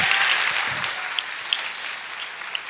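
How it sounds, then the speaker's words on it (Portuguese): A church congregation claps in a broad, steady wash of applause filling a large hall, with a few sharper individual claps standing out as it tapers off, no voices over it. "pode aplaudir o Senhor e dizer: eu creio."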